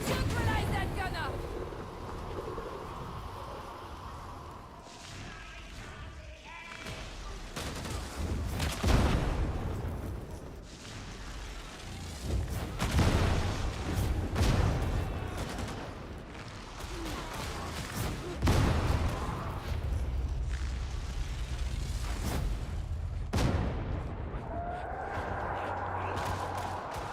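Bursts of gunfire and booming blasts in the video game Darktide, loud and dense, rattling in volleys over a busy combat mix while voices speak throughout.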